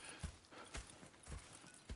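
Horse hooves clip-clopping at a steady walk in the Red Dead Redemption 2 video game, four distinct hoof strikes spaced about half a second apart over a soft background bed.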